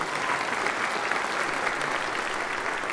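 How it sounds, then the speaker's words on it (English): A church congregation claps together during a homily, a continuous, even wash of many hands applauding at close range for a few seconds without any voices. "Give them a round of applause"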